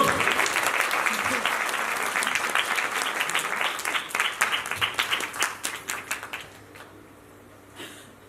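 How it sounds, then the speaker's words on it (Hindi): A satsang audience at a spiritual gathering breaks into loud, sustained applause, dense clapping that rises in bursts and then fades out near the end. "अब जोर से ताली बजा दो इनके लिए।"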